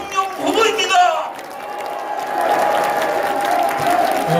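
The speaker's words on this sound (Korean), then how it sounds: "여러분 모두 일어나서 박수로 환영해 주십시오" Audience at a campaign launch rally for a presidential candidate of the Korean People's Revolution Party applauds steadily, clapping blending into broad crowd noise with voices over it early on.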